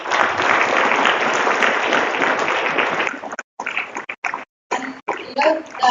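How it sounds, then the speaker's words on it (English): A crowd at a college day event applauds the decoration committee: loud, dense clapping for about three seconds, then broken, patchy bursts that cut in and out before fading. "So a big round of applause for all of you."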